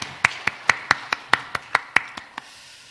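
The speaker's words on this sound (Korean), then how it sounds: "하나님께 영광의 박수 올려드리기를 원합니다." A church congregation claps in a crisp, evenly spaced rhythm, about ten sharp claps in unison over a few seconds, with no voices.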